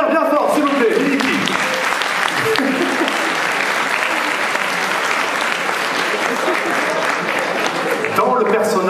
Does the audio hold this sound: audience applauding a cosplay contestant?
yes